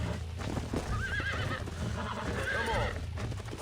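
A horse in the Red Dead Redemption video game whinnies with a wavering neigh while its hooves clip-clop over a dense ambient game soundscape, with no one talking.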